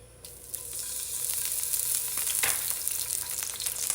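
Garlic sizzles in olive oil in a wok, a close, steady frying hiss that builds quickly and crackles throughout, with occasional stirring noises. No one speaks.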